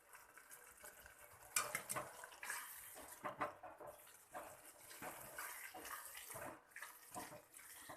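Vegetable masala for veg pulao bubbles in a pot on the stove, a faint, close, uneven burble of simmering liquid with occasional sharper pops and clinks.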